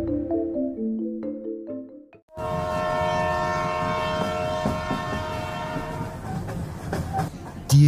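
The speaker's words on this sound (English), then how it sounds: "Dear Brandon, I'm writing to you from a train" A passing train sounds a loud, sustained chord-like horn over a steady rolling rail rumble, following a short stretch of soft tonal music.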